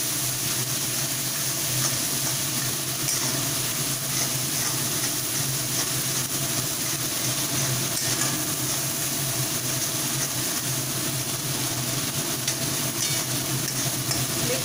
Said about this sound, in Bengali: আমরা মশলাটাকে আরও ভালোভাবে কষিয়ে নিচ্ছি